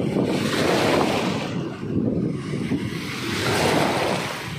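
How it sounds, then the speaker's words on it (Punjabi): Sea waves wash in as a broad, steady roar of surf, loud and close, with wind buffeting the microphone and no voices. "ਉਹਦੇ ਲਹਿਰ ਆ ਗਈ, ਦੇਖੀ ਦੇਖੀ"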